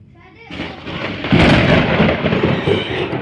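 Very loud thunder from a nearby lightning strike a few doors away bursts in and rolls on as a deep, sustained rumble, close and powerful, filling the whole stretch.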